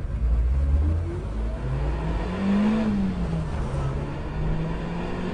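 A car on a drive toward twisty roads with a removable roof pulls steadily, its engine note climbing and falling as it accelerates, heard from inside with a loud, continuous rumble and wind noise.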